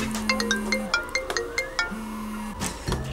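An office phone rings with a repeating electronic ringtone melody, several short tonal bursts in sequence, fairly close and clear with no talk over it.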